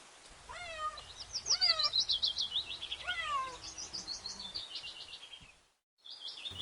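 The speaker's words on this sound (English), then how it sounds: "C. C for cat." A cat meows several times in quick succession, the cries rising and falling in pitch and mixed with a few chirpy high calls, fairly close and clear with no talking.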